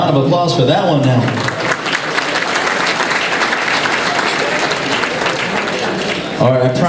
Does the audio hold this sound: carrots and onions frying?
no